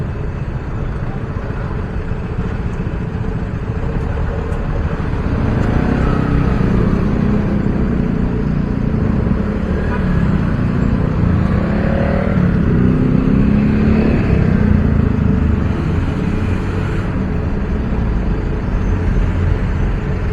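Continuous road traffic near Quezon City Hall, with cars and motorcycles droning and passing at close to mid distance, engines swelling and fading over a steady rumble.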